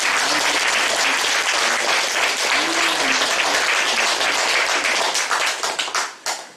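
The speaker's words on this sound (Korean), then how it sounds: "우리 또 박수 한번 하시죠" A church congregation applauds during a thanksgiving service, steady dense clapping filling the room for about six seconds before thinning into a few scattered claps and fading out.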